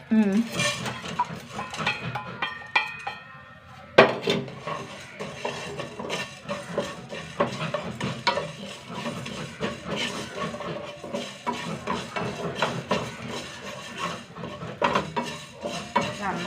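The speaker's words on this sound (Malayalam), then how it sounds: "ഇനി അരി കുരുമുളക് ഇട്ട് കൊടുക്കട്ടെ" Rice and black pepper dry-roasting in a kadai, with steady close scraping and clinking of a utensil against the pan throughout, plus a brief louder knock near the middle.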